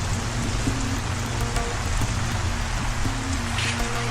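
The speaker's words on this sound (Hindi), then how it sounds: "बहुत भारी बरसात है।" Heavy rain pours down in a village, a loud unbroken roar of drops striking the ground and nearby surfaces, steady throughout with no voices.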